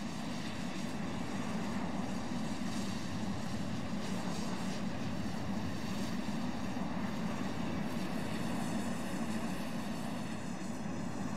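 Tu-144S airliner engines rumbling steadily while taxiing in Roblox Aeronautica, a continuous broadband roar with a droning hum, close and constant throughout, no voices.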